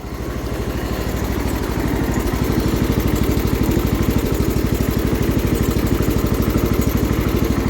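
A John Deere 210 lawn tractor's small engine idles at a fairly high, steady rate, a loud close chugging pulse throughout with no talk.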